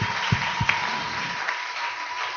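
A church congregation applauds during a sermon, a steady bed of many hands clapping with a few louder individual claps near the start, moderately loud and without speech over it.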